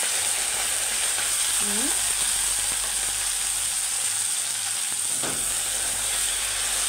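Garlic fries in hot oil in a pan, a constant close hiss and crackle that runs unbroken throughout, with faint clicks of a utensil in the background.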